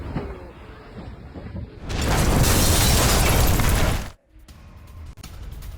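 Blast at a Russian ammunition depot hit by a Ukrainian attack: a loud, roaring rumble that swells and holds for about two seconds before cutting off abruptly, set against a noisy background.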